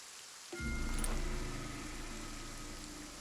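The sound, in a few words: rain ambience in the video game Kingdom Two Crowns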